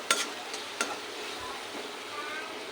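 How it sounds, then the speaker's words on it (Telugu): Potato kurma fries in a pan with a steady close hiss of sizzling, punctuated early by a couple of sharp clacks of a spoon against the pan, then settling into an even simmering fry with no talk. "ఇది ఒక 2 నిమిషాలు వేగనియండి ఫ్రెండ్స్"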